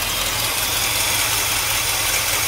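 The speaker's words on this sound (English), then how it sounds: "She's been idling for a while" A 1964 Cadillac engine idles steadily and loudly up close, a continuous low rumble with a faint exhaust leak, no voices over it.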